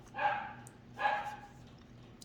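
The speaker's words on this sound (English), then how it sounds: "And I wish my dog would be quiet." A house dog barks twice in close succession, sharp and fairly loud indoors, followed by a brief quiet pause.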